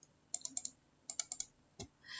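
A computer mouse clicks repeatedly in an SPSS menu, sharp close clicks in two quick bursts of four, then a soft thump and a short rustle, quiet and alone.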